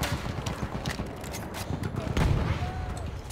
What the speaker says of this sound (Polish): Trzy pociski wystrzelone na pałę.